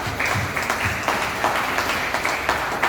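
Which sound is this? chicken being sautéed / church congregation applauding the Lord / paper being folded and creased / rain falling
church congregation applauding the Lord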